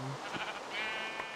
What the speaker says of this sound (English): Alright, here's a sheep.